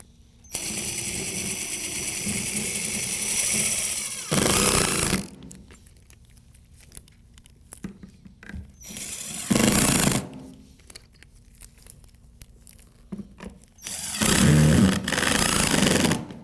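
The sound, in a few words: screws driven into replacement toilet flange with power drill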